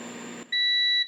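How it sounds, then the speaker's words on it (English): A SUNGOLDPOWER 6000W pure sine split-phase inverter sounds its low-voltage alarm as battery voltage drops: one steady, piercing electronic beep, loud and close, following a burst of broadband noise. "you can hear the low voltage alarm of the inverter is now sounding"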